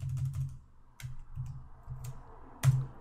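Keys on a computer keyboard are typed in short quick bursts, a few soft clustered clicks separated by brief pauses and ending with one sharper, louder tap, close and quiet.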